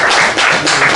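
A conference audience applauds a speaker, a brief burst of close, loud, dense clapping in uneven pulses, lasting about a second.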